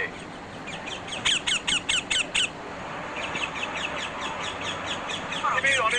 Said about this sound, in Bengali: টিয়া পাখির কিচিরমিচির শব্দে সবসময় মুখরিত থাকে এর চারপাশ